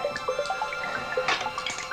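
Water dripping and splashing close by, a quick run of bright plinking drops and small splashes falling in an irregular patter.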